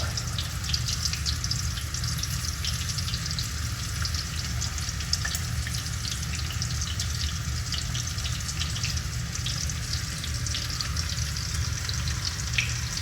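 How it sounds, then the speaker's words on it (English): Battered shrimp frying in hot oil for crispy shrimp, a steady dense sizzle and crackle that runs without pause, close and even, with no voices. "So I'm just gonna put them into the oil to cook."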